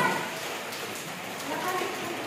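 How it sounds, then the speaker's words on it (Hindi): Steady rain falls on small flower pots, a soft continuous patter and hiss, growing slightly heavier, with a person talking over it. "गाइस ये देखिए बारिश तेज़ हो रही है"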